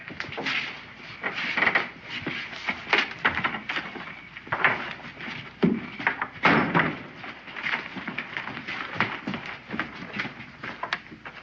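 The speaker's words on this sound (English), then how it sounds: "Open that door." A door opens and slams shut amid a run of wooden knocks, thumps and bangs, sharp irregular impacts close by with some rustling movement between them, no voices.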